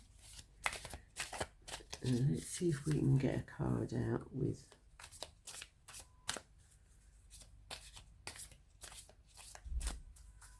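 Tarot cards riffled and shuffled in quick, papery bursts close to the listener, with a person talking quietly over and between them.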